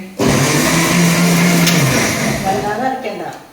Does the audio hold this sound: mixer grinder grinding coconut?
yes